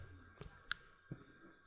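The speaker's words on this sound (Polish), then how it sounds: "Wystarczy kliknąć lewym przyciskiem myszy na notatkę" Left mouse button clicks during a OneNote tutorial on a computer, two or three faint, sharp clicks spaced apart over a quiet background.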